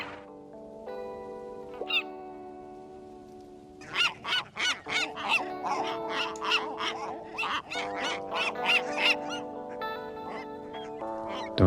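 Repeated goose-like honking from a bird in the cosy bookshop video game Tiny Bookshop, a rapid run of loud squawks over a light, steady musical background, with no talking.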